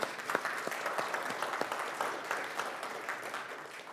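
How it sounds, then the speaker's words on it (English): Audience applause for a group of children at a charity gala, a steady wash of many hands clapping at moderate volume, with a few sharper nearby claps, continuing evenly throughout. "you can applaud those adorable children."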